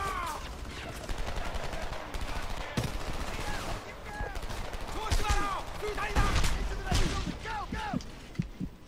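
Heavy gunfire in the video game Homefront, with rapid bursts of automatic weapons and sharp shots crackling close by, alongside voices talking in the middle of the firefight.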